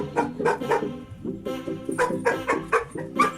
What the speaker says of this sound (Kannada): ಒಂದು ಹಸು ಬಂದೈತೆ ಅದಕ್ಕೆ ಬಂದು ಬೊಗಳ್ತಾ ಇದ್ದಾನೆ